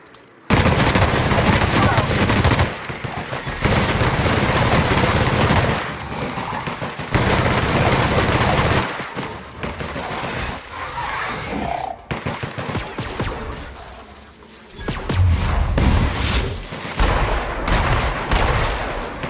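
Gunfire while fighting through nightmare creatures in the Outer Worlds video game, with dense, sustained bursts of shooting that run almost continuously, loud and close, briefly easing near the middle before picking up again.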